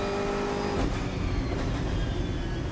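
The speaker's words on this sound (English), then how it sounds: "And the noise, the cacophony of noise inside the cockpit as well." Onboard engine noise inside the closed cockpit of a DTM race car during free practice at Assen, a loud, continuous roar with a steady whine that shifts pitch partway through, filling the clip with no talk.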